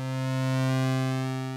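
A steady buzzy synthesizer pulse wave holds one pitch, its timbre shifting slightly as the pulse width changes the harmonics, with no talking.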